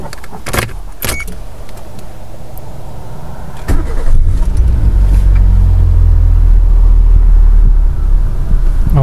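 An engine bay that is still smoking turns over and restarts on a flooded car being revived, a few sharp cranking bursts followed by a steady, loud low rumble as the engine catches and keeps running.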